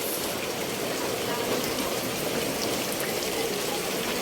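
Floodwater rushing through a street in Don Manuel, Quezon City, a steady broadband wash of flowing and splashing water that holds a constant level throughout, with no clear voices.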